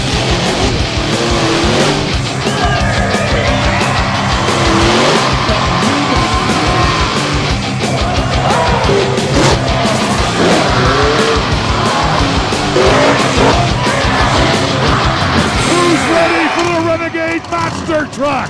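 Roaring monster trucks race at the Renegade Monster Truck Tour 2021 in the Pocono Mountains, with loud engine revs, tire squeal and skidding close by, continuous and overlapping throughout, with shouting voices mixed in.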